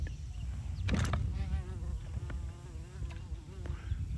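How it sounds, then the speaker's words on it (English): A bee buzzes close to a fisherman on a lakeshore, a wavering drone that rises and falls as it circles near the microphone over low outdoor rumble, with no talking. "I got a bee causing me a problem."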